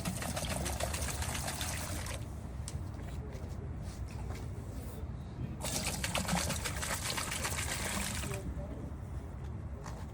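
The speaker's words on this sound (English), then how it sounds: "We're going to throw a little more xylene into both hoppers." Xylene solvent splashing and trickling into the hoppers of polyurea spray pumps, a steady liquid pour with pulsing machine noise running underneath for several seconds.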